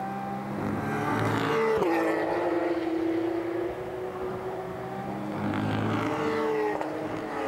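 Porsche Carrera Cup race cars overtaking at Imola, loud engines droning steadily with a clear gear-shift pitch drop, then a second car's engine rising and falling near the end, with no talk.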